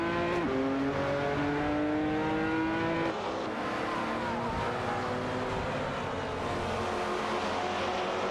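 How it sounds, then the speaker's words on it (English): Race car engines roar and whine in an AI racing video game featuring BMW M3 GT4 and Ford Mustang cars, with steady revving, shifting engine pitch and tire noise throughout, loud and continuous. "Neo Texan and Vex 0v0 ID are neck and neck in their BMW M3 GT4"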